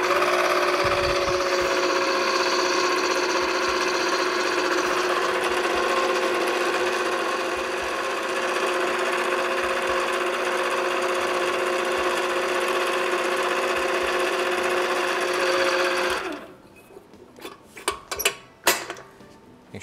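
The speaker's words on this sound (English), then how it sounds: "sometimes it doesn't cooperate real well as far as using a big mixer like this" Big electric stand mixer beating walnut pie filling, a loud steady mechanical whir with a rattling hum for about sixteen seconds, then it shuts off, leaving faint clinks and scraping.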